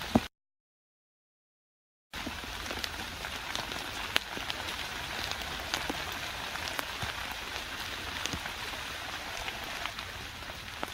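Steady rain patters on a surface after a brief silence, a constant hiss with scattered louder drops, no voices.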